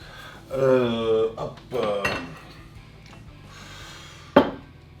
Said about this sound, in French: j'ai sorti un verre à mélange